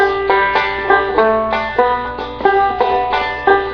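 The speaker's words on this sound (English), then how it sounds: "So now I'm going to play the whole practice melody note" A banjo picks out a simple practice melody, with single notes sounding at a steady, even pace and ringing briefly between plucks.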